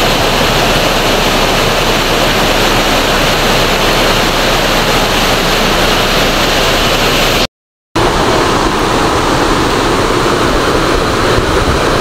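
River water flowing beside a village road at a truck trailer accident site, a loud continuous rushing roar close by with one brief dropout partway through.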